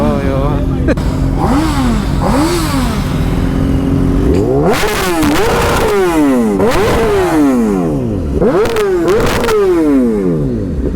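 Several superbikes rev hard nearby in Mysore, loud repeated swooping throttle blips rising and falling in pitch over a rumbling idle, with overlapping engines and people talking underneath.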